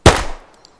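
A single loud gunshot fired in the DayZ video game, a sharp close blast with a short decaying tail and a faint metallic click trailing after.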